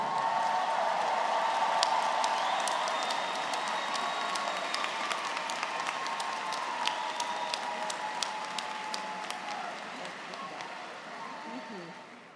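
A graduation ceremony audience applauds the class of 2023, sustained dense clapping with sharp individual claps standing out, fairly distant and hall-like, gradually thinning over about twelve seconds.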